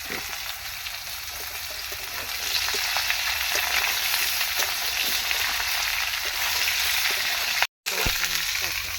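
Tomatoes sauté in a pan of oil for a Bengali fish curry, giving a steady, close sizzle with faint stirring scrapes all the way through. Near the end the sound cuts out completely for a moment, then the frying returns.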